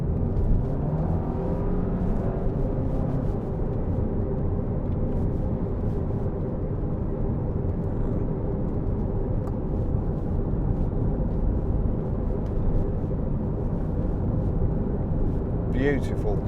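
A 2011 Audi TT 2.0 TTS TFSI Sport Quattro coupe drives on the road, its engine and road noise forming a steady, continuous rumble from inside the cabin, with someone talking over it.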